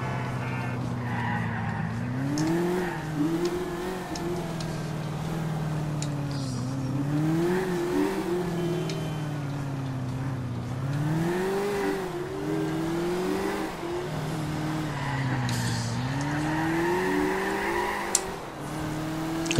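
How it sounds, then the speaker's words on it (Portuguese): A car's tires squealing in GTA 4 on PS3, long screeching skids under a wavering, revving engine that rises and falls repeatedly, loud and continuous with no talk. "Cantando pneu, a marca de pneu."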